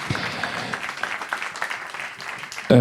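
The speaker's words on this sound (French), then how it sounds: "Vous pouvez applaudir, bien sûr, nos invités aujourd'hui." An audience at a regional circular-economy conference in Normandy applauds round-table guests with steady, fairly dense clapping throughout, ending in a brief louder thump.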